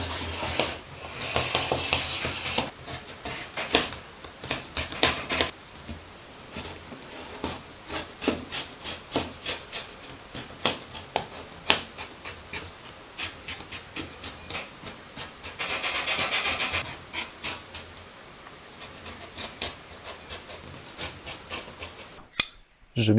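Fabric for a cargo pocket is cut in a long run of soft, rhythmic snipping and rasping strokes with occasional louder scrapes, heard close and quiet.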